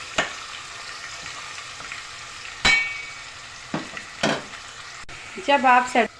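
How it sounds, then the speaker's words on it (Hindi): Oil sizzles and crackles steadily as chicken fries in a pan with garlic-ginger paste. A few sharp clanks and stirring scrapes cut in, with no voices. "ऑयल के अंदर मैं डाल दूँगी चिकन"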